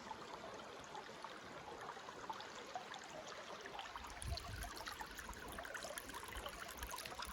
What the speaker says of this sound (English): So, we're crossing the creek right here.